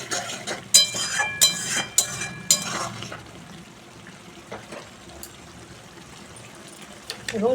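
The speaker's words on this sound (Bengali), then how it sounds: "এবং দিয়ে দিচ্ছি পরিমাণ মতন জল।" Water is poured into a pan of simmering rui fish curry with ridge gourd and potato, giving a hiss and bubbling with a few clinks of utensils, the sizzle fading to a softer steady simmer.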